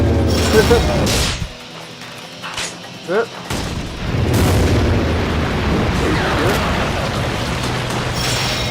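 Rocket launcher blasts and heavy booming explosions erupt loudly in the Wii game Resident Evil: The Darkside Chronicles, several bursts with rumbling debris and a brief quieter gap in between, backed by dense game noise.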